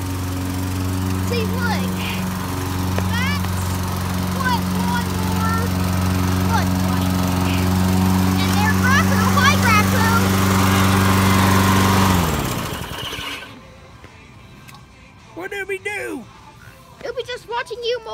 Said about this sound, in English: we hear a lawnmower that's here.